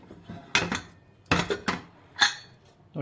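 A pressure cooker full of cooked rajma masala, already cooled, has its metal lid worked open: three separate clanks and knocks of metal on metal, close and fairly loud, with quiet gaps between them.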